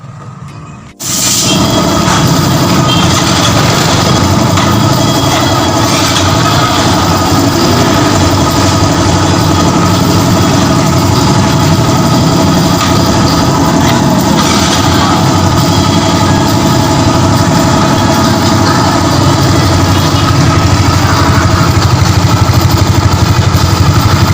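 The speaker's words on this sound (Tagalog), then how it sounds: "nabuhay na po natin yung makina pero hindi po natin siya mabirit" A Yamaha Mio Soul i 125 motorcycle engine, running on a temporary jumper wire to its injector during a wiring harness repair, cranks and catches after a second, then idles steadily and loudly for the rest of the clip without revving.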